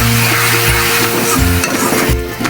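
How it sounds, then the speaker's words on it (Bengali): Onions fry in oil in a pan, in oil left from frying cauliflower, with a steady loud sizzle broken by repeated scraping stirs of a spoon against the pan. "পেঁয়াজটা ভাজা ভাজা হইলে আমি মশলা দিয়ে দেবো।"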